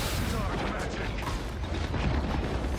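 Punisher's turret in Marvel Rivals fires continuously amid a loud, dense wash of battle noise, a steady roar of rapid shots and booms with voices mixed in.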